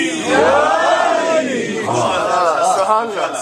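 A large Muharram gathering shouts the Nara-e-Haidari religious chant together, loud, close and sustained for several seconds, with rising and falling group cries.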